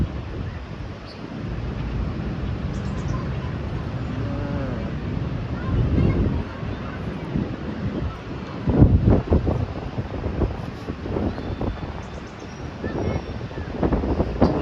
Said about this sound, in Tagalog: Grabe ang hangin, nililipad ang aking buhok.